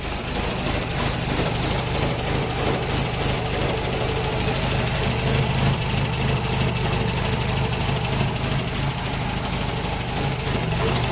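A Triumph TR4A engine idles steadily and loudly while warming up, with a constant low rumble and faint rhythmic ticking, no voices, unchanging throughout.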